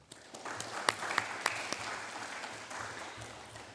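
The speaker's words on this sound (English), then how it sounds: "we will give him a round of applause" A modest crowd at a school sports awards ceremony claps for an absent footballer, scattered distinct hand claps standing out early before settling into softer, thinning applause that fades toward the end.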